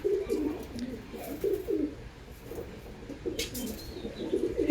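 Yellow-eyed pigeons coo in low, intermittent bursts nearby, soft and somewhat muffled, with brief rustles and a faint chirp in between.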